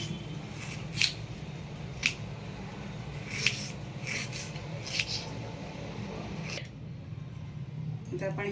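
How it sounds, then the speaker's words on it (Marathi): Onions being chopped with a knife on a board for Kolhapuri misal, cut into fairly thick pieces, giving sparse, separate crisp knocks about once a second over a steady low hum. "कांदे मी धुवून घेतले आता आपण चिरून घेऊया"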